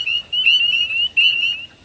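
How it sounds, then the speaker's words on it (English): Spring peeper frogs call in a chorus of loud, high, piercing peeps, several overlapping whistled notes repeating in quick bursts, heard alone and fairly close. "Those are the spring peepers."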